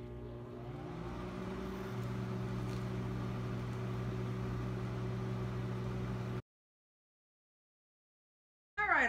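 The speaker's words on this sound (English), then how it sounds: "put it in the microwave. And we're going to melt it." A microwave oven hums steadily while melting chocolate, a constant mid-pitched drone for several seconds that then cuts off abruptly into silence before a brief burst of noise returns.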